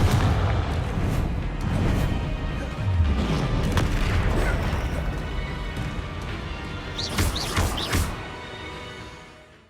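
Fiery spell explosions in the Hogwarts Legacy video game, a run of deep booms and crashing bursts through dense battle noise, with sharper cracking blasts near the end.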